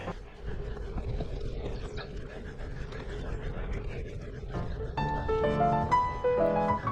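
Rapid, heavy human panting breaths, sped up five times, run continuously at an unnaturally fast pace over steady wind-like noise, with a tonal melody coming in near the end.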